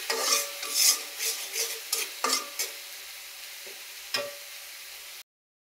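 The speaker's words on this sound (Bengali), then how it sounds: "এখন দিয়ে দিব একটু লাল মরিচের গুঁড়া, দিয়ে ভালো করে একে নাড়াচাড়া করে নেব।" Red chili powder being stirred into spices frying in a pan: a run of soft scraping stirs over a light sizzle, close and fairly quiet, with no voices.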